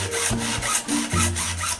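A handsaw cuts through a section of PVC pipe, giving several rough back-and-forth rasping strokes with a steady, close, fairly loud rhythm and no talking.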